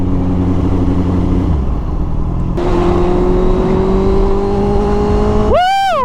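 A Honda CBR650R motorcycle's inline engine idles with a steady hum, then steps up to a higher sustained tone and revs sharply at the end in a quick rising and falling sweep, loud and close, with no talking.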